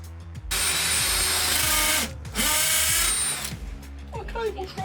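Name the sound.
power drill drilling a pilot hole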